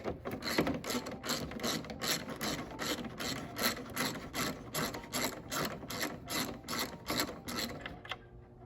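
Steady, rapid ratchet clicking continues for several seconds as headlight bolts are loosened on a 2012 Chrysler Town and Country minivan. The close, even clicks run in a regular rhythm before stopping abruptly.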